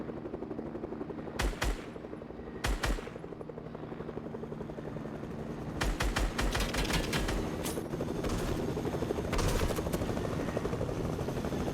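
Helicopter rotor chopping in the Fortnite video game, a steady loud drone throughout, broken by short bursts of gunfire and explosions that grow denser toward the end.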